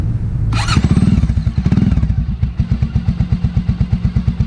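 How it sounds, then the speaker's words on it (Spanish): A Vort X 300 motorcycle engine cranks and catches, revs briefly, then settles into a steady, even idle with a smooth, rhythmic exhaust putter, close and loud. "llegó el momento de encender a esta bonita motocicleta para que ustedes sean testigos de cómo se escucha."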